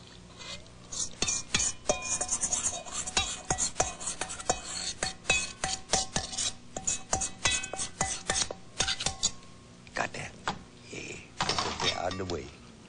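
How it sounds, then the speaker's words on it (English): A spoon scrapes and stirs honey into leftover peas in a cooking pot, producing a steady rhythm of rasping, clinking strokes that carries on close up for the whole stretch and turns into a few louder scrapes near the end. "Stir it good so you get all the honey in there."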